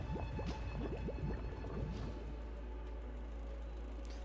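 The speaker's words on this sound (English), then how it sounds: "The sound of something boiling." In the video game Nikke, liquid bubbles and boils steadily, with a flurry of quick popping bubbles early on that settles into a softer, continuous simmer.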